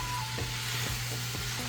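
Onions frying in butter in a pan, a dense continuous sizzle, close and even, with no voices.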